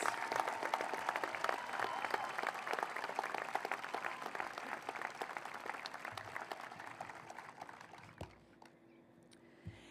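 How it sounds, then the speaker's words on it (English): A crowd at a high school graduation ceremony applauds the foreign exchange students. Many hands clap in a thick, sustained roar that gradually thins, then fades to near quiet around the last two seconds. "Please join me in a round of applause in recognizing our 2026 foreign exchange students"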